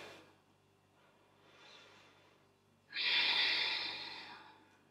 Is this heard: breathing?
yes